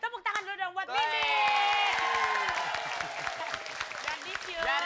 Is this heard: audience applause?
yes